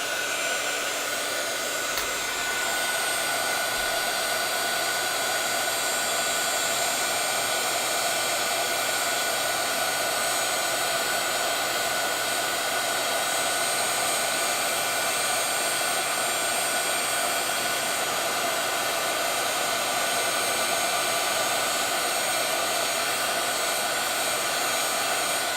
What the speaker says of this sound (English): I'm going to warm up my embossing gun